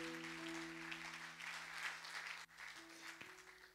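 A church congregation applauds its singers, soft clapping that stays fairly faint behind a steady tonal hum, with a short break partway through.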